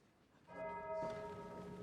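A bell rings out with a sustained, harmonically rich tone, struck about halfway in and again near the one-second mark, ringing on to the end in a classroom setting with a professor and students.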